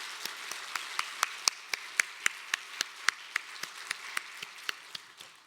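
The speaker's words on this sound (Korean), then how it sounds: "우리 이영석 목사님께도 우리 한번 감사의 박수 해주시면" Church congregation applauding at a Wednesday evening service in a Korean church, an even, rhythmic unison clap beating steadily for several seconds before softening at the end.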